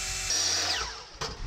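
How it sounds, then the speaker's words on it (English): A power drill bores out a slit in a pro scooter bar, a steady high whine that bogs down and sweeps lower mid-clip, then cuts off with a brief clatter near the end. "let's go ahead and drill the rest of this out now"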